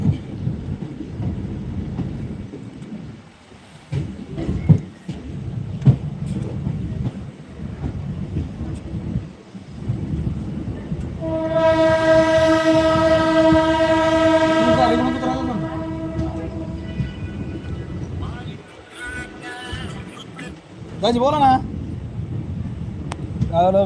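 A train rumbles into a station in Ahilyanagar, India, over chatter and crowd noise, then a long, loud horn blares for several seconds before the rumble carries on under voices.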